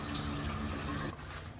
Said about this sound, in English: that's seems like decent water pressure